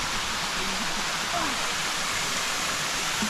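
Bulalacao Falls in El Nido, Palawan, pours as a loud, steady wash of broadband rushing water heard up close, constant throughout with no breaks.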